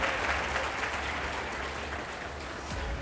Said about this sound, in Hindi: आप जोरदार तालियों के साथ स्वागत कीजिए